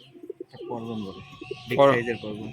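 Large hybrid pigeons coo in low, throaty bursts nearby, with a brief flutter of other bird sounds and some background voices.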